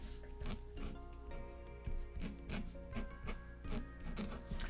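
Faint, dry scratching of a Posca paint marker dragged across wood, coming in short repeated strokes with brief gaps between them.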